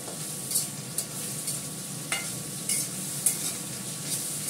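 Fish frying in a pan on an induction cooker: a quiet, steady sizzle broken by occasional light scrapes and taps from a stirring utensil.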